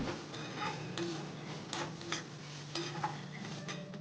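Mung dal being stirred in a wok after a tempering of cumin, green chili and curry leaves, soft repeated scraping and light clinks over a faint sizzle, quiet and close with no talk.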